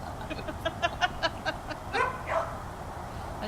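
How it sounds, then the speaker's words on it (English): A dog barks and yips in a quick run of sharp, repeated barks in the background, followed by a couple of longer whining yelps, all fairly faint against a steady low hum. "We always have something in the background. Oh yeah, today it's a dog."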